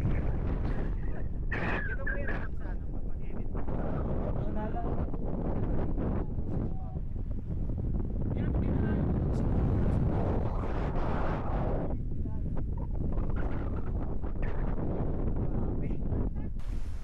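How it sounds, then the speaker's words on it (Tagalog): On the Apao Rolling Hills, strong wind buffets the microphone in a continuous loud rumble, with people talking intermittently underneath. "masyadong malakas yung hangin"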